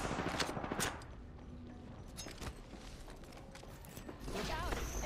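Gunfire in Apex Legends, scattered sharp shots and bursts at moderate loudness, mixed with mechanical clicks and game sounds.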